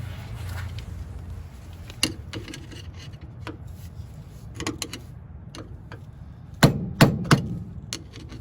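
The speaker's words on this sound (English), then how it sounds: "I'm just going to hit it with a hammer and bend it back." A hammer striking the securing plate of an inner tie rod on a BMW E30: a few sharp metallic taps, then a quick cluster of three heavier strikes near the end, over low background noise with no talking.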